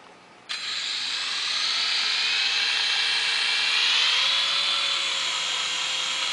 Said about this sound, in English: Very good, stable helicopter. As you can see, it hovers just perfectly.